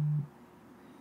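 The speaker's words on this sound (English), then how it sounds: "See, that was my phone reminder that we have to wake up" A phone reminder alarm sounds as a short steady electronic tone at the very start, cutting off quickly and leaving a quiet room hum.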